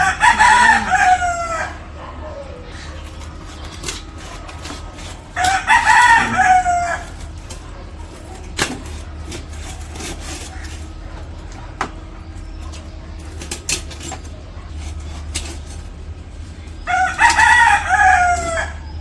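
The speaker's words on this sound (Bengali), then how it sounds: "মুরগিতে ডাকতেছে বাইরে।" A rooster crows outside three separate times, at the start, in the middle and near the end, over a low steady outdoor background, with quiet gaps between the crows.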